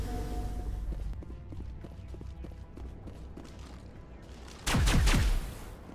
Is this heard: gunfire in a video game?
yes